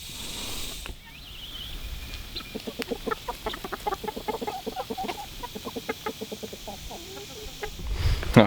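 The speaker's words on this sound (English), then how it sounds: "these white leghorn roosters" White Leghorn roosters cluck in quick, rhythmic bursts at a moderate distance, the chatter continuing steadily over a low background hum.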